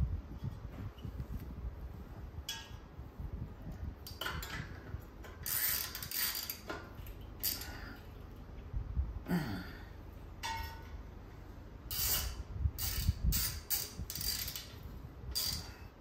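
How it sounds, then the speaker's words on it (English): Hand tools put on and take off nuts and bolts on a flood-damaged Simpson 4400psi pressure washer pump with a GX390 Honda engine, giving irregular ratchet clicks, metallic clinks and scrapes of varying loudness over a low steady hum. "Putting on nuts and bolts,"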